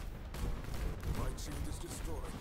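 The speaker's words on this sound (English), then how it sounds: "Broadside!" Heavy airship cannon broadside fire in the Cloud Pirates aerial combat game, a dense run of booming shots rumbling over each other amid battle noise, with a voice talking over it.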